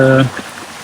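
Water pouring at Gizlikent waterfall in Turkey, a steady broadband rush that continues on its own after a brief snatch of voice at the start.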